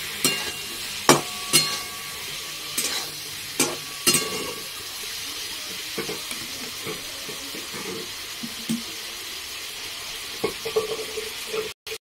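Bottle gourd with turmeric and green chilli being stirred in a pan: a low sizzle underlies repeated sharp spatula clacks and scrapes, clustered early and scattered later, ending in an abrupt cut.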